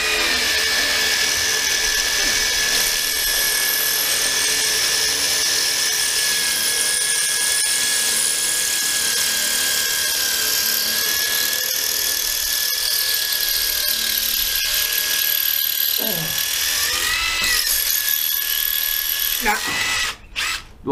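A 12V cordless drill boring with a DeWalt bit, a steady high whine that holds loud for about twenty seconds, then shifts pitch and cuts off in short bursts near the end.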